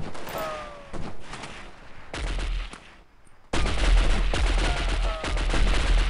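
Rapid bursts of automatic gunfire from a military shooter set in Chad, heavy and close, sounding in several clusters with short gaps and louder sustained volleys toward the end.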